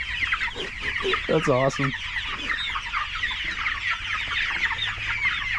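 Meat chickens, a flock of about 100 broiler birds at day 31, cluck steadily and loudly at close range, with busy overlapping calls throughout and a brief spoken remark early on.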